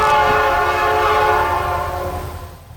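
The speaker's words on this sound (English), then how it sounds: "The power is usually 2 Jeeps, in today's case was an IC GP40R and an IC GP38-2." A loud, sustained multi-tone horn blasts from a Illinois Central GP40R and GP38-2 diesel locomotive pair leading a freight train, close by and steady before slowly fading, with a low rumble beneath.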